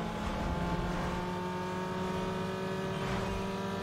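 Engine noise from a racing car in Need for Speed Underground 2, a steady loud drone with sustained tonal whine across the whole stretch, with no pauses and no speech.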